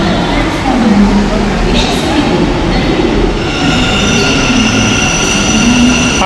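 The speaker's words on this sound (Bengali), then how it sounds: "জাস্ট এসে প্ল্যাটফর্মে উঠলাম আর মেট্রো ঢুকছে" A Namma Metro train pulls into a Bangalore station platform with a steady, loud rumble and rising wheel and motor whine, voices murmuring beneath it.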